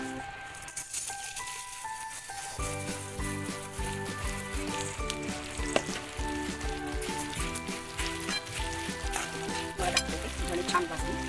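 Coriander seeds tipped into hot oil and roasted, for homemade Malvani masala: a loud, dense rattling crackle and sizzle that starts suddenly and keeps popping steadily close up, no talk.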